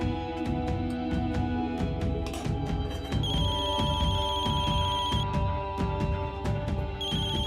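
A phone ringtone plays loudly and continuously, a bright repeating electronic melody with no voices over it.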